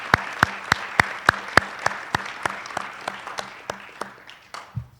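Audience applause for coaches and staff at a university athletics winter senior celebration, heard as a steady run of fairly distinct claps, moderately loud, thinning out toward the end with no talk.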